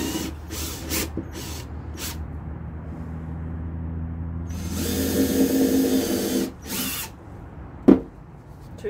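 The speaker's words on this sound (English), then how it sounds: "and I'm going to drill" A power drill whirs in several short bursts, then runs longer as it bores holes through a canvas, with a sharp knock near the end; no voices.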